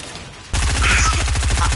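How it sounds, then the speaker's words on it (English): A dense burst of rapid gunfire erupts in Fortnite after a brief quiet moment, loud and continuous video game combat, with a faint voice underneath. "I heard gunshots."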